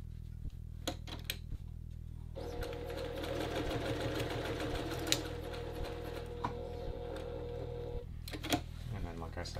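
A sewing machine stitches the placket of a men's dress shirt, running steadily for about six seconds with a rapid, even mechanical clatter over a low motor hum, with brief pauses and clicks before and after.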